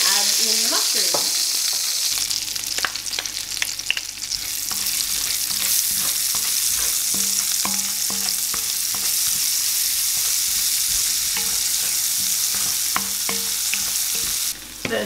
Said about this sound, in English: We'll cook the shallots for a couple of minutes and then add in the mushrooms